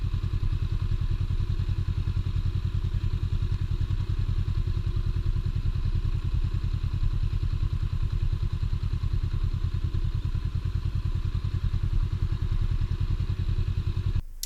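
Honda Rebel 500 motorcycle riding slow circles, a steady low rhythmic engine thrum throughout at constant loudness, nearby with no talk.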